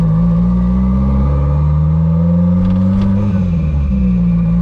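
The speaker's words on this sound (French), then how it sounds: "c'est le son du turbo, ça?" A Renault Maxi 5 Turbo engine running steadily with a low, continuous rumble and a slight rise in pitch partway through as the turbo comes in, close by.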